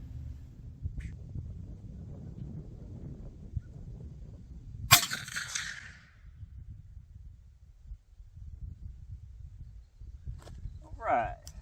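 A single .45-70 rifle shot fired at 2x6 boards 200 yards away, a sharp, sudden crack that rings out briefly against a quiet outdoor background, with low murmuring talk before and after it.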